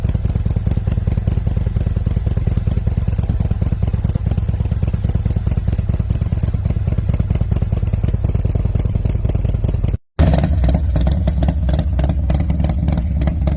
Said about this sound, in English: Bike number 1, 124 Road Glide with full chrome works 2x1x2 Dominator.